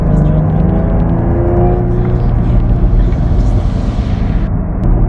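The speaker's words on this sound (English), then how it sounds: "The sound that this car makes is just amazing." Engine of a 2015 Jaguar F-Type, a loud steady drone with rising harmonic tones, heard close throughout.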